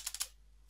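Three quick, close keystrokes tap on a computer keyboard while a Linux command is typed, then fall quiet.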